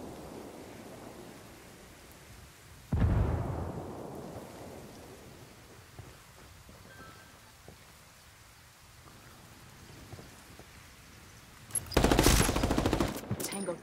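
A grenade explosion and bursts of gunfire in a tactical shooter video game, a heavy boom followed by a fading rumble, then a quieter stretch before a second loud sustained blast of shots near the end.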